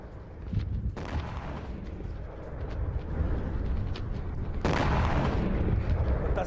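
Explosions from a Ukrainian attack on an oil refinery in Kaluga, a continuous heavy rumbling roar with deep booming bursts, the loudest surge arriving near the end, with no talk over it.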